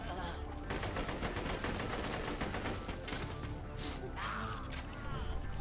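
Rapid, continuous gunfire rattles through a Borderlands: The Pre-Sequel firefight, dense and loud with overlapping bursts, a brief mechanical whir and an electronic sweep near the end.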